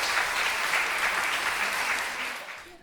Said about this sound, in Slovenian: Še en aplavz jim dajmo.